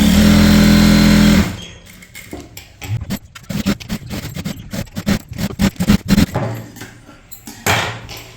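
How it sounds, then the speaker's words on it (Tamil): A sewing machine stitching blouse lining runs with a loud, steady motor whir, then continues in short, uneven bursts of stitching with pauses between them. "இந்த லைனிங் அளவுக்கு நீங்கள் தைக்கணும்"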